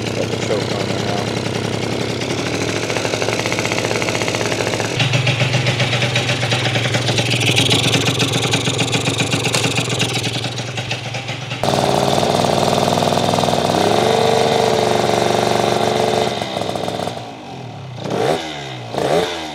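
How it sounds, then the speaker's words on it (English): A 70cc engine swapped into a small stunt bike runs just after starting with the choke on, a loud, continuous rattling putter that shifts in pitch as it revs, with a few sharper surges toward the end. "we got the motor swapped into here, the giveaway engine, and we got it fired up"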